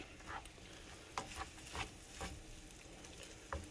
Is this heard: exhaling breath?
no